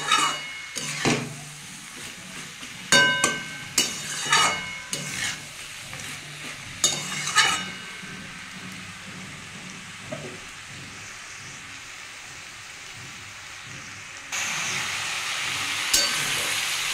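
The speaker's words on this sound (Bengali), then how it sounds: "এটা একটু ভালো করে কষে নিতে হবে, নাহলে জিরে দিয়েছি তো জিরের গন্ধটা ছাড়বে।" Fish head curry with cumin being sautéed in a pan, a continuous sizzle under several brisk stirring and scraping bursts in the first half, then a steadier hiss, close with no talking.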